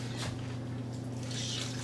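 Liquid pours into an Instant Pot for a pot roast, a short close splash and trickle heard alone over a steady low hum.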